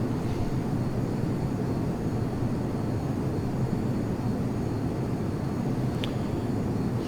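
An Iris F-22 Raptor's jet engine roars steadily and loudly in the Prepar3D flight simulator after the throttle is advanced, with no talk.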